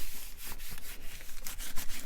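A hand rubs back and forth over a dry craft masterboard, giving a close, rhythmic scratchy brushing with repeated strokes and no talking.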